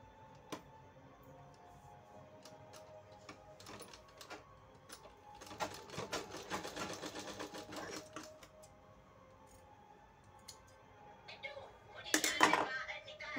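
A sewing machine stitches a blouse back-neck design in a tailoring setting, a soft rapid mechanical rattle that runs in bursts and is loudest midway, with someone talking throughout.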